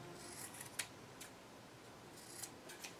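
Scissors snip through dryer sheet paper stitched onto a mixed media piece, giving a few faint, crisp cuts spaced irregularly in a quiet room.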